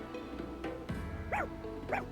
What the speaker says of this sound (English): Bet you the dog is all the way up here.